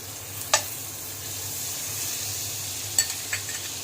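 Butter melting in a hot frying pan on a gas flame turned low, a steady soft sizzle running throughout, with a couple of sharp clicks or pops, heard close and alone.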